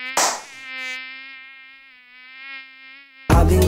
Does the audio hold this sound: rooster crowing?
no